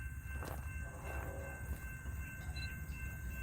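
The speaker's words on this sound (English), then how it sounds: "The leader of this CSX train is a General Electric ET44AH" Rumble of a CSX freight train led by a General Electric ET44AH locomotive, heard from a distance as a steady low drone with faint higher tones over it, no voices.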